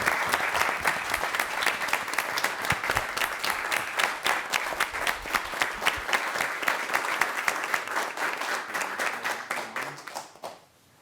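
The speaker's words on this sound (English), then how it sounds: "a round of applause" Applause at a city mayor and aldermen workshop meeting, honoring a student's fire safety work; sustained, dense clapping from a room of attendees, even and fairly near, fading out in the final second.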